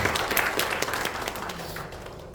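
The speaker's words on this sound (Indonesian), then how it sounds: "Boleh tepuk tangannya buat Tuhan Yesus." A church congregation applauds together for a couple of seconds, a steady wash of many hands clapping at moderate loudness in a reverberant hall.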